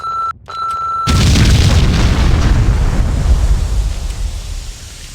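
A loud bomb explosion in Max Payne bursts after a short tonal hum, then rumbles on as a sustained roar of debris and noise for several seconds.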